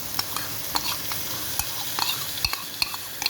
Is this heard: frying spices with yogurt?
yes